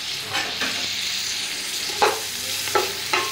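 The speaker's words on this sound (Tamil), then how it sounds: "நம்ம இந்த வெங்காயத்தை வந்து பொன்னிறமெல்லாம் ஆக்கக்கூடாது, சும்மா லைட்டாக ஃப்ரை ஆனாலே போதும்" Onions fry lightly in ghee with a steady soft sizzle, broken by a few sharp scrapes of a spoon stirring the pan, close up and without talk.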